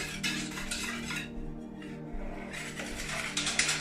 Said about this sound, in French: Allez, on mélange bien, on fouette bien, on sort les gros muscles